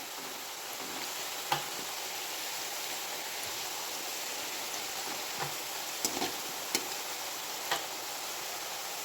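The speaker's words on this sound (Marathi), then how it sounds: "तर चला आपण ह्या तळून घेऊयात. हे बघा मित्रांनो, तेल मीडियम गरम झालेलं आहे." Homemade crunchy namkeen snacks fry gently in medium-hot oil over a low flame, a steady soft sizzle with a few scattered pops and ticks, no talking.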